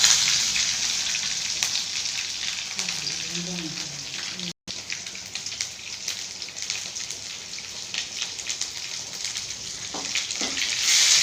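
Hot oil in a pan crackles and sizzles steadily while spices are tempered for sambar, a continuous close bright hiss with scattered pops, briefly interrupted once and otherwise unbroken.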